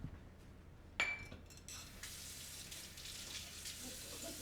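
Warm water running from a kitchen tap to make yeast for Croatian walnut bread, a soft steady hiss of flowing water after a sharp glassy clink, fairly quiet and continuous.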